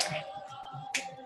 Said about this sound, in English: Turn that namaste into a hand clap